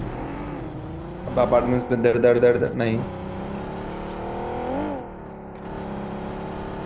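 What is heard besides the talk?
vehicle driving in the video game BGMI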